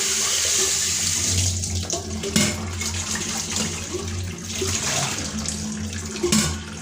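Tap water runs steadily into a sink while a stainless steel kettle is scrubbed clean, a continuous close splashing flow with brief louder surges and no talking.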